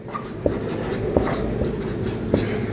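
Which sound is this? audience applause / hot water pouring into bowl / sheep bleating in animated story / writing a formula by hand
writing a formula by hand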